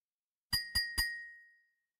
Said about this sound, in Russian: звуки возникают при ударе о стеклянную посуду пластиковой палочкой